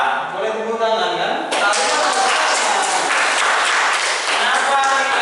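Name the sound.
class applauding group 4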